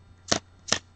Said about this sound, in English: I'm going to deal down cards, and the spectator is going to tell me when to stop